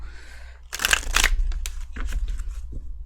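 Tarot cards being shuffled by hand, with two dense bursts of riffling and softer card slides and taps following, close up and without talk.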